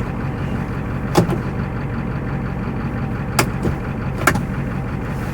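A 7.3L IDI diesel engine in an OBS Ford one-ton dually truck runs with a steady, loud, low rumble, broken by a few sharp clicks and knocks.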